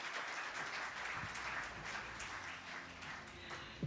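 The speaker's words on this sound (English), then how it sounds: "A big round of applause, please." Applause from the audience at a live startup awards ceremony in India, a steady wash of clapping heard at a distance that continues for the whole stretch.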